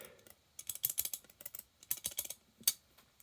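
Loose metal Knipex pliers rattling in the hand, a quick run of close, sharp clicking clacks in uneven bursts with a few brief pauses and one louder clack near the end.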